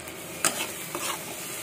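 Tomatoes cook in a pan for paneer bhurji, a faint steady sizzle with a couple of short scraping stirs from a spoon, no talking.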